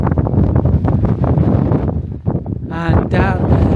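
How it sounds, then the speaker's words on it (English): Strong wind buffets the microphone high on the slopes of Yufudake mountain above a big bay, a loud, steady broadband roar with a voice briefly rising over it near the end. "over there there's a lot of wind"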